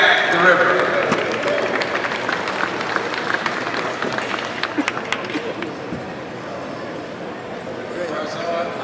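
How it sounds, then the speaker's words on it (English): A crowd at a boxing press event applauds the new WBA light heavyweight champion, steady dense clapping with cheers and babble throughout, fairly loud and close, tapering slightly toward the end. "Give him a big round of applause"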